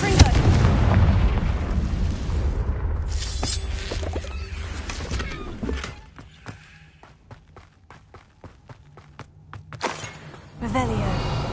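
Booming blasts and crackling impacts from a Confringo fire spell exploding in Hogwarts Legacy, loud at first and then tapering into scattered sharp pops and debris, with a man calling out spell names over the action.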